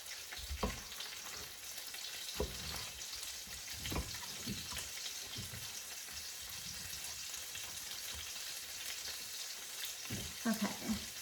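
Vegetables for ratatouille sautéed together in a single pan, giving a soft, steady sizzle broken by occasional utensil knocks and stirring clatter, fairly faint and without speech.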